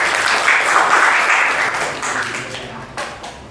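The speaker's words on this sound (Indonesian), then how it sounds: "Tepuk tangan untuk jawabannya Mel ya." Students in a classroom lesson break into applause, a dense burst of clapping that starts loud and gradually thins and fades over a few seconds.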